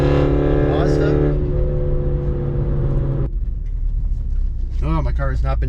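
Stage 2 tuned Mini F56 driven hard on a canyon road, its engine holding a loud sustained drone with harmonic tones, then dropping into rougher rumble and road noise; a person talks briefly near the end.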